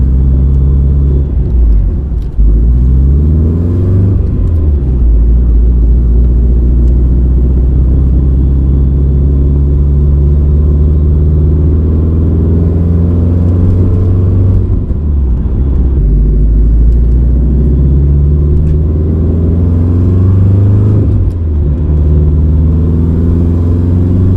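Supercharged Subaru Outback with forged engine internals driven gently through the gears, its loud, steady engine drone rising in pitch then dropping at each of several gear changes, no speech.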